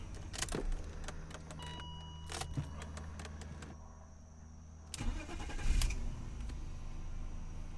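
A car engine briefly cranks and catches after a battery change, revving up into a steady idle after some clicks and rattles, moderately distant and fairly quiet.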